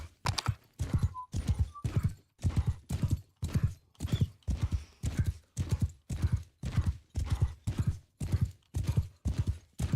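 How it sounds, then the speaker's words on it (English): A horse's hooves pound steadily in the Mount and Blade II: Bannerlord video game, with loud, close, evenly spaced beats about twice a second, uninterrupted by speech. "Well, at least I'm on a horse, so I can just ride over."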